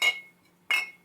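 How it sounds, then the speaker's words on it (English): Glass jars clink inside a cart: two crisp, ringing strikes about half a second apart, each fading away, with near silence between them. "You hear jars clinking."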